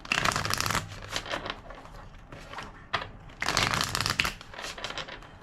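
Tarot cards being shuffled in several riffling bursts, crisp and close, with short pauses between them.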